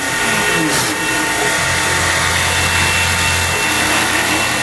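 A CNC machine cutting wood gives a loud, steady high-pitched whine and rasp of the router bit, continuous throughout with a lower mechanical drone rising partway through.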